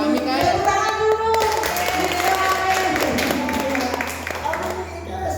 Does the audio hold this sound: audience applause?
yes